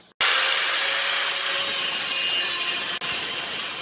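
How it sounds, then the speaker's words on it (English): Angle grinder fitted with a cutoff disc sharpening Husqvarna walk-behind lawnmower blades clamped in a vise, a loud steady abrasive grinding hiss running continuously with one very brief break near the end, close up and without talk. "I'm using a cutoff disc on an angle grinder to sharpen these in a vise"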